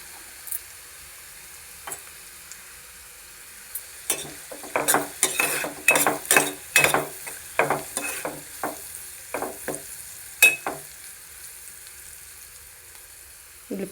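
Onions frying with a pinch of turmeric in a pan for sesame seed curry: a quiet sizzle, then a busy run of rapid spatula scrapes and taps in the middle before it settles again.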